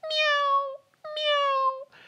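A voice imitates a cat's meow during a children's song for first-grade music: two long, clear, tonal meows, close and fairly loud, with a brief pause between them.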